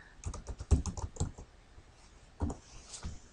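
Computer keyboard typed on at close range, a rapid run of crisp key clicks followed by a pause and a couple more taps.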